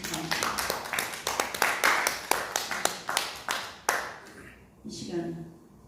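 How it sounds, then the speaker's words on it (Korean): Applause at a church prayer service: a room of hands claps in quick, dense bursts for about four seconds, then fades out as a voice speaks softly at the end. "하나님께 먼저 영광의 박수를 올려드리고"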